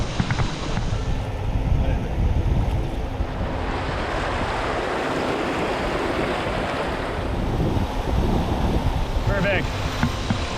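Canoe running the boulder-strewn rapids of the Wabissinane River outflow: steady, broad rush of water tumbling over rocks with wind buffeting the microphone, continuous and close throughout.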